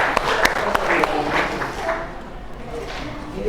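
A school class at SMAN 9 Bogor claps in a short burst of scattered applause that fades out within a few seconds, with voices mixed in.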